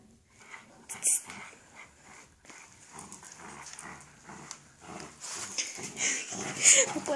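A dog growls and snarls in tug-of-war over an umbrella, its rough grumbling rising and falling close by across the clip, with a sharper burst near the end.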